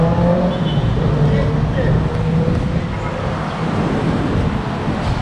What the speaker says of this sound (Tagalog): Yan po yung highway.